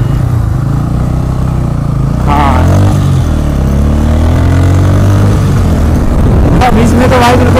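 Motorcycle engines rumble and rev steadily at a large superbike group ride event with over 2000 bikes, loud and close throughout, with pitch rising as a bike accelerates, and a voice speaking briefly over the engine noise.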